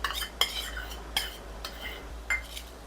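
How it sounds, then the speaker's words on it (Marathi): A utensil whisks plain yogurt in a bowl while palak paneer bhurji is being made, giving a few separate scraping clinks at an uneven pace, close and fairly quiet, with no talking. "हे दही मी आधी थोडंसं फेटून घेते।"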